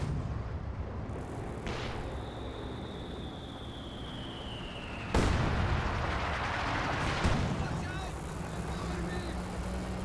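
An artillery barrage lands on a mortar position in the Company of Heroes 2 strategy game, with a whistling shell, sharp heavy impacts and rumbling explosions while a commentator talks over the action.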